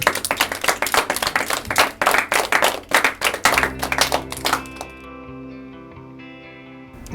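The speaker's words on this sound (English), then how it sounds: "We can clap it up." A group clapping in a classroom-style setting, loud rhythmic bursts of hands for about three and a half seconds before stopping abruptly, leaving a quiet sustained tone and room hush.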